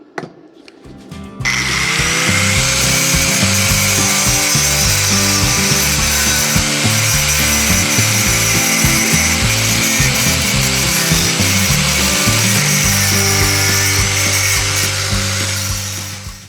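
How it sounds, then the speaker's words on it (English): A power tool grinds loudly and steadily against steel while cleaning welds inside a heavy-duty trailer hitch, running almost continuously up close for about fifteen seconds after a short start. "now I have to clean all the welds here from the inside so that they are not in the way of the plate"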